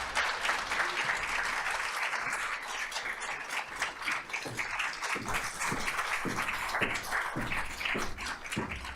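An audience applauds finalists at a First Novel Fête reading event: steady, dense clapping from a sizeable crowd that holds at an even level for the whole stretch.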